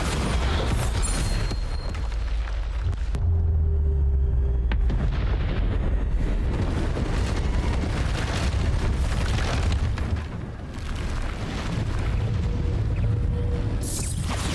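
Bombarda exploding spells in a wizard video game, with repeated heavy booms and blasts crashing one after another across a dense, loud stretch of magical combat noise.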